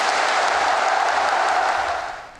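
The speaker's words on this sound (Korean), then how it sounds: "함성을 지금 잠깐 들으셨는데" A huge crowd roars and applauds for President Moon Jae-in after his speech, a dense, steady wall of cheering and clapping that fades out toward the end.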